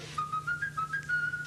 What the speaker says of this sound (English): as inventor Ugo Conti practices on his Conti 1 whistle synthesizer.